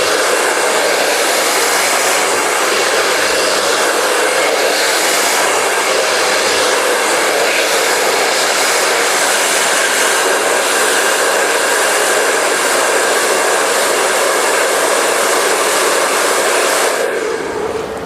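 A hair dryer blasts steadily and loudly at close range, blow-drying hair over a round brush for a razor/feather cut, a continuous unbroken roar that cuts off near the end.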